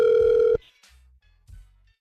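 A single electronic telephone ring sounds on a call placed from a radio station. The short, loud, steady tone is followed by quiet clicks and line noise.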